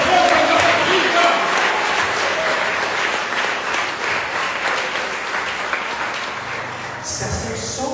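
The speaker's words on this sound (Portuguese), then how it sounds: "Você pode aplaudir o Senhor" A Baptist church congregation applauds during a worship service, loud continuous clapping that slowly thins out before stopping near the end, followed by a brief different sound.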